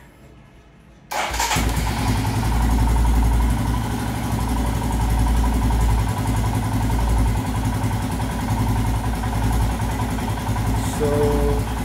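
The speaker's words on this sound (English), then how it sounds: "let's see where the idle is right now after the engine has been warmed up" A warmed-up Royal Enfield Himalayan motorcycle engine starts after a second of quiet and settles into a steady, close, loud idle with an even low thump that continues to the end.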